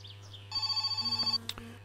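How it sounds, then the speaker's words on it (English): A telephone rings in the video game My Summer Car, a short run of rapid electronic trilling pulses over a low steady hum, followed by a couple of brief clicks. "Oh, there goes the phone."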